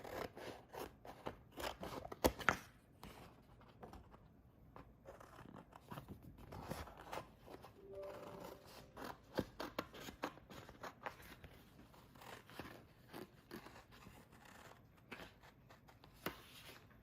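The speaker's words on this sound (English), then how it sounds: "I'm gonna cut the bottom off" Scissors cut through vinyl sheet in a quiet series of small, uneven snips and rustles, close but soft, with no voices.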